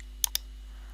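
Two quick, sharp computer mouse clicks close up in quiet surroundings while editing in the Windows 10 video editor, with a faint steady hum beneath.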